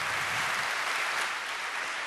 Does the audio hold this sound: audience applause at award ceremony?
yes